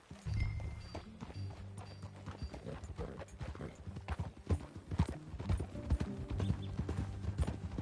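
Horse hooves clop at a riding pace in the video game Red Dead Redemption 2, a rhythmic, fairly close run of hoofbeats over low ambient tones and faint tack sounds.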